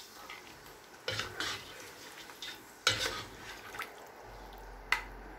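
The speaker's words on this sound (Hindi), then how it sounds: "इसे मिक्स कर लेंगे।" Mutton chops simmering in gravy with a glass of water added, stirred in a pot with a spoon: a few scraping, clinking strokes spread across a quiet kitchen background, close and moderately soft.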